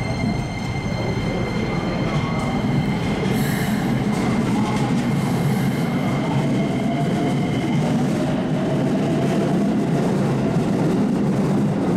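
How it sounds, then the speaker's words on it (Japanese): A Keikyu train pulling away from Keikyu Kamata station the day after heavy snow, a steady loud rumble of wheels with high electric motor whines rising in pitch, plus faint squeals. "隣に止まっていた羽田空港駅も発車。"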